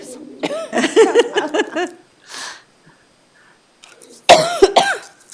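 A person coughs during a county board of commissioners meeting, with several sharp coughs in a cluster up close. Speech is heard around them in the room.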